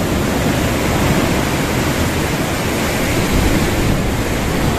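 Ocean waves roll and break along a shore near small islands, a loud, dense wash of surf that rushes on without a pause, heavy with wind, and no voices over it.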